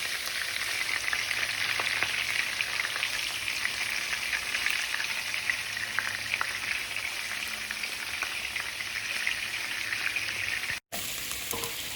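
Onions fry in a pan beside meat kofta, an even, moderately quiet crackling sizzle that runs unbroken apart from a brief dropout near the end, with no voices.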